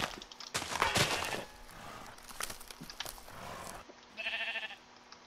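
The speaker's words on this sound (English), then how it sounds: "And there's a sheep, let's go get him." A Minecraft sheep bleats a couple of times amid game footstep and movement noises, moderately near, with a short tonal sound at the end.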